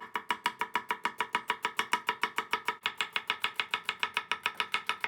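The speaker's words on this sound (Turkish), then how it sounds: "Ispanağımız soğuk suyun içinde beklerken hemen soğanlarımızı doğrayacağız." Rapid, evenly spaced knife chops through onions on a cutting board, roughly five per second, crisp and close with no talking.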